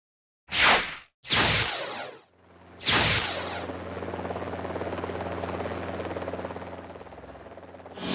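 Helicopter flying past, the first seconds broken by sharp whooshing bursts before a steady, loud rotor drone with a low throbbing hum settles in and continues to the end.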